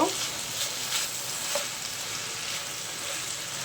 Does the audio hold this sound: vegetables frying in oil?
yes